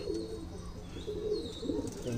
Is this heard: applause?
no